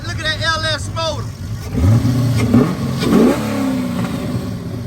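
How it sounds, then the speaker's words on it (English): Corvette with an LS 408 stroker engine revs in a short burst under excited talking nearby, the rumbling engine rising then settling as voices continue over it. "Got the Corvette, man. Look at that LS motor."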